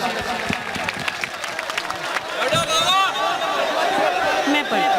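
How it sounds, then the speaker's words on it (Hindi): A mushaira audience applauds steadily, welcoming a poet to the stage, with clapping swelling louder partway through and a murmur of voices beneath it. "एक एक शख्स उनके इस्तकबाल में तालियों से उनका स्वागत करे"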